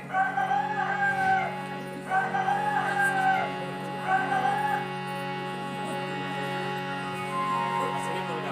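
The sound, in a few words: person imitating a rooster crowing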